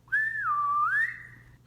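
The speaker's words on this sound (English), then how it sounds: "So then the old lady whistled." An old lady in a children's story whistles a single clear, loud note that rises, dips and glides back up over about a second, with no talking.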